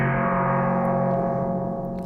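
Brightened modular spring reverb holds a thick, sustained tonal wash with layered harmonics and a hissy edge, steady and loud throughout, ending with a few faint clicks.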